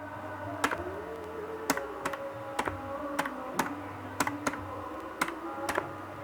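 Sharp, scattered keystrokes on a computer keyboard while working in PageMaker, close and distinct, each click standing alone over a low steady room hum with no voices.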